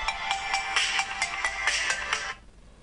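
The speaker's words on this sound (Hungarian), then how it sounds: "Mi az Isten, itt már telefon is van," A telephone rings indoors in an even run of rapid electronic trills, close and clear, then cuts off abruptly into near silence.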